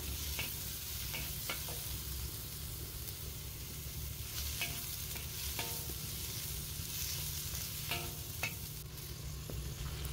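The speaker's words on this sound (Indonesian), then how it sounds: "jahe dioseng-oseng aja sampai harum atau sampai layu" Ginger and wood ear mushrooms stir-fried in a pan for a Cantonese-style okra and mushroom dish, giving a steady sizzle with scattered scraping clicks of the spatula, close and continuous throughout.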